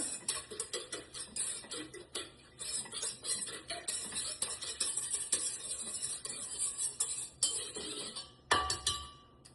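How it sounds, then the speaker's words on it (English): A spoon stirs a yeast and sugar mixture in a bowl for homemade sandwich bread, giving steady close clinking and scraping that runs throughout with no talk. "Then I'm going to give that a little stir."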